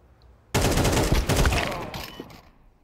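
Mac-10 submachine gun fire in Counter-Strike 2, a sudden dense burst of rapid shots that starts sharply, rattles for about two seconds and then tapers off.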